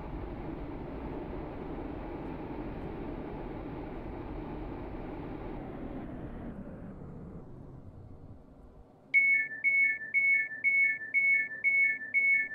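A five-coach train in a Roblox railway game rumbles and slows steadily into a station, its low running noise fading over several seconds before a repeating electronic chime starts pulsing at close range.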